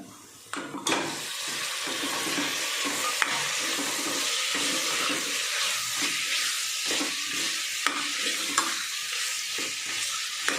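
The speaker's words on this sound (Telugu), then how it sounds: "అల్లం వెల్లుల్లి పేస్ట్ కూడా వేగిపోయింది, మటన్ వేసుకుంటున్నాను" Mutton dropped into a pan of fried ginger garlic paste, a continuous sizzle and hiss with occasional sharp clinks and scrapes of stirring, close and steady throughout.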